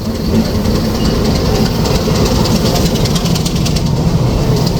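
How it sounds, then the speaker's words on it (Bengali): The Dolonchapa Express pulls into a station with Iranian vacuum coaches, its loud, steady rumble and rhythmic clickety-clack of wheels over rail joints filling the scene close by. "প্রবেশ করছে আমাদের সফরসঙ্গী দোলনচাপা এক্সপ্রেস"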